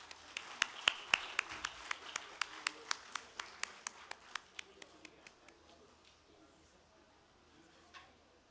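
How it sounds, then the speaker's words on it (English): Applause at the closing session of an infrastructure conference, heard as a regular series of sharp, distinct claps that gradually thin out and fade, with a voice under them. "Please keep the applause coming"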